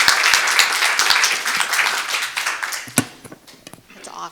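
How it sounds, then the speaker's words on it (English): An audience at a wildlife corridor science summit applauds its panelists, dense clapping from a crowd that thins and trails off into scattered claps, with some talking at the end. "let's give a round of applause to our panelists here"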